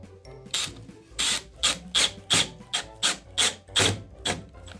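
A power drill drives a screw into wood in a series of short, rhythmic grinding bursts, about ten close, loud pulses with brief pauses between, no talking.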